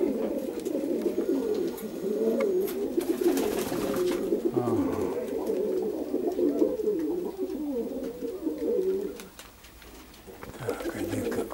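Perm pigeons coo in repeated, rolling throaty phrases close by, one bird after another, with a brief lull near the end before cooing resumes.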